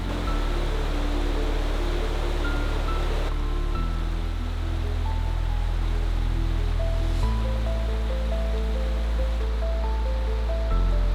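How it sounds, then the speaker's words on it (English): Meltwater streams flow down a valley near Garzeno toward Lake Como in Italy, a steady, loud rushing wash that continues without a break under soft sustained musical tones. "This flowing water leads us down through the valley, where countless streams merge and become one"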